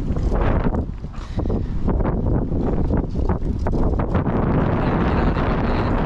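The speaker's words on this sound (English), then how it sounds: "you can already hear it, it's super windy today." Heavy wind buffets the microphone in loud, gusty rumbles, booming and fluttering continuously with no voices.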